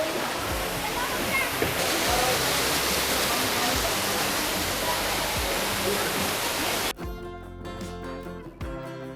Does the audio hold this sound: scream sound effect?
no